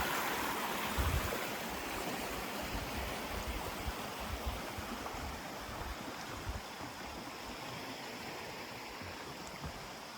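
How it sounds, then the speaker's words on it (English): Aball Stream flows on the Appalachian Trail toward the Penobscot River, giving a steady, full rushing and babbling of water that stays even and close for the whole stretch, with no talk over it. "This is Aball Stream."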